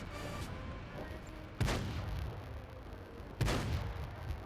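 Tank cannon fire in a World of Tanks competitive match: two sharp, loud booms about two seconds apart, each with a brief rumbling tail over steady low background noise.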